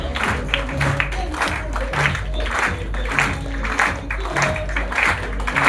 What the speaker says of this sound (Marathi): क्या बात है, जोरदार टाळ्या झाल्या पाहिजे